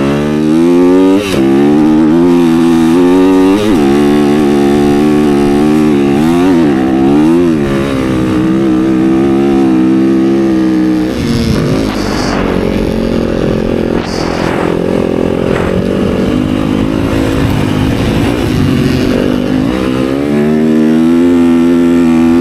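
Yamaha YZ250FX dirt bike ridden in sand, its engine loud and near, revving up and down in rising and falling sweeps across the whole stretch with no pause.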